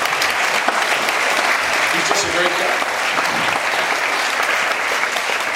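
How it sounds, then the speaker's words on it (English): A crowd applauds continuously and loudly for several seconds while someone speaks briefly over the clapping. "I think he deserves a round of applause."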